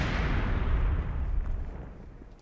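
A deep, rumbling grenade blast from the video game Generation Zero rolls out as a single low boom and fades over a couple of seconds, with no talking.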